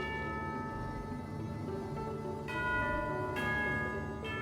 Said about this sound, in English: Hear the sound of a bell.